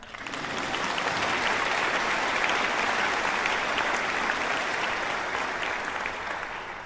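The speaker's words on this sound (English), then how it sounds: "So we could clap for her." Steady applause from a sizable crowd at a physician assistant graduation ceremony, dense and even throughout, with no voices standing out.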